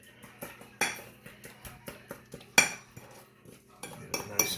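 A utensil mixes ranch and melted butter in a dish, producing a quick rhythmic series of close clinks and scrapes against the dish with brief pauses between strokes; no talking.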